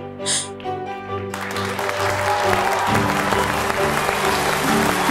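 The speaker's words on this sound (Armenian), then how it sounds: "Մարզիչները հոտնկայս են ծափարում" After a brief musical opening, a crowd of judges breaks into loud, sustained standing applause that continues over the music at a televised singing competition battle round.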